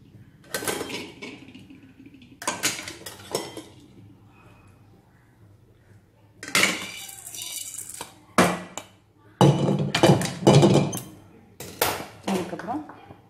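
Roasted urad dal is tipped into a pressure cooker in several short, clattering bursts of grains against metal, separated by quieter gaps, with a voice talking nearby.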